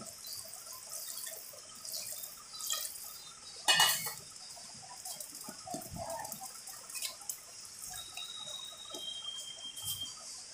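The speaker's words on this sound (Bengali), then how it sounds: "এই যে ওপর দিয়ে মশলা বাটা জলটা দিয়ে দেব" Ground spice water poured over fried eggs in a pan, a soft steady liquid splash with scattered clinks of utensils and one louder clatter partway through, close by and without talk.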